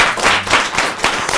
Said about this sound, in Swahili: Watu makofi yao.